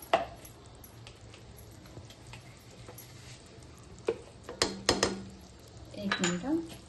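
Sesame mixture being stirred into jaggery syrup in a pot for til-gul laddoos: a quiet background, then scattered metallic clinks and scrapes of a spoon against the pot, clustering near the end.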